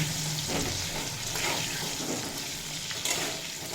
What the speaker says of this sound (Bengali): পটলে শুধুমাত্র লবণ দিয়েই ভেজে নেব